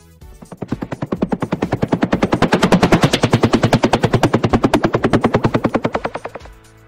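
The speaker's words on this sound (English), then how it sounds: "Attack helicopter." Rapid, heavy chopping of an attack helicopter's rotor, pounding in a fast steady rhythm that swells up close and then fades.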